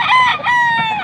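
A young gamefowl stag crows once, close and loud, a bright harmonic call lasting about a second at a market.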